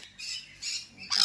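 A green parrot at the Yelagiri bird park gives three harsh, raspy squawks in quick succession, each louder and closer, with the final one the sharpest.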